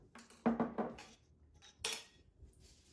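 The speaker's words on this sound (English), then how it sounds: "I'm going to mix it up with the whisk." A whisk knocks and scrapes against a bowl while mixing ingredients for a pantry beef and barley stew, a few quiet clinking strokes in short bursts close by in a quiet kitchen.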